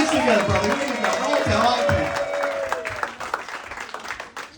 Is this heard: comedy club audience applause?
yes